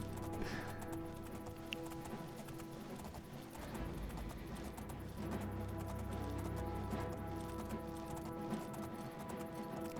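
Horse hooves clip-clop steadily throughout a ride in The Elder Scrolls IV: Oblivion, a continuous rhythmic trot set against game music and ambience at moderate loudness.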